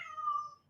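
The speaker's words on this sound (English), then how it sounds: "I don't know what's going on with my cat, but he made this big meow" A pet cat lets out a single short meow indoors, a clear tonal cry that rises slightly and fades within a second, fairly faint and distant, with no talking over it.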